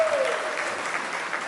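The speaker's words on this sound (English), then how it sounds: "How about one more round of applause?" A large audience applauds at a thoroughbred racing awards ceremony. The clapping is a steady, continuous wash and fairly loud, with a brief tone audible at the start.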